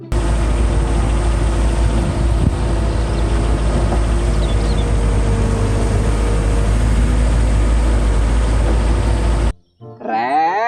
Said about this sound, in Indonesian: Widih, ada mobil truk ekskavator,